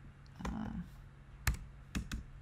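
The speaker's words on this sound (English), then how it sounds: "that's what I'm typing right now" Scattered keystrokes on a computer keyboard while drafting a pattern box in SketchUp, a few quiet clicks and taps spread apart over soft room noise.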